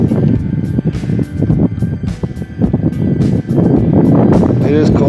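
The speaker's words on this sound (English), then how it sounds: "Now the wind's blowing pretty decent." Steady wind gusting across a cold, exposed Rocky Mountain spot at night, a broad rushing roar with buffeting on the microphone that rises and falls, strengthening toward the end, with a voice talking over it.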